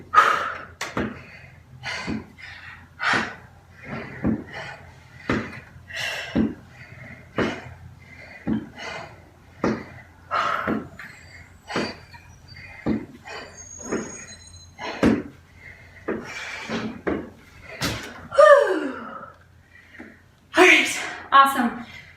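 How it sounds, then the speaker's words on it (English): Heavy panting after plank mountain climber exercises: a rhythmic series of loud, breathy exhales at roughly one-second intervals, close to the microphone, continuing for about twenty seconds. "You can see I'm panting hard."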